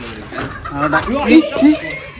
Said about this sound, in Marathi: कोंबडी आली कसली